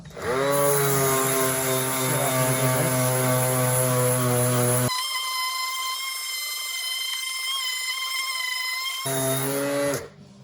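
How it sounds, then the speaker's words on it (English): Coarse 80-grit sanding on the bodywork of a 1989 Kawasaki Ninja ZX7, heard as a loud, steady motor whine with strong humming tones that shifts pitch midway and cuts off near the end. "you do end up going down to metal to some degree, which is why I'm sanding it"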